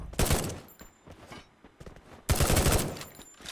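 Close, loud bursts of gunfire in the battle-royale shooter Free Fire, two heavy volleys of rapid shots separated by quieter scattered firing, with no talking.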